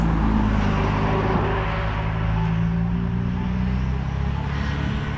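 Traffic on a road at night during a long walk, a steady low rumble of passing cars holding across the whole stretch, fairly loud and continuous, with no talking.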